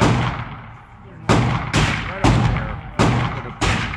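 Five sharp, loud pistol shots from a Phoenix Redback fired at 7 yards, spaced roughly half a second to a second apart, each a hard crack with a decaying echo, the first following a brief lull.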